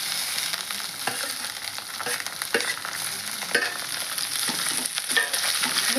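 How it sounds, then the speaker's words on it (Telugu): Cluster beans frying in hot oil sizzle steadily and loudly up close, with repeated scraping clicks of a spoon stirring them in the pan, no talking. "ఇది గోరుచిక్కుడు ఇప్పుడు వేస్తున్నాను."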